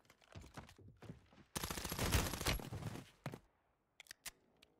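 Gunfire from a gun in Call of Duty Warzone on Rebirth Island: a few scattered shots, then a dense loud burst of rapid automatic fire lasting about a second, followed by several more separate shots and a couple of sharp late cracks.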